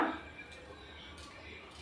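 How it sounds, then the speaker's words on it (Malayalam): A few quiet knife chops knock against a cutting board as vegetables are cut, at an unhurried, irregular pace, soft and close. "ഇതെല്ലാം ഞാനൊന്ന് അരിഞ്ഞെടുക്കട്ടെ കേട്ടോ"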